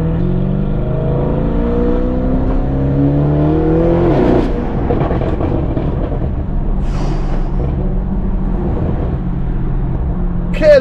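A loud Mansory Bentley, painted half yellow and half black, revs its engine hard, with rising and falling harmonic sweeps as it accelerates up close, steady throaty roar continuing throughout.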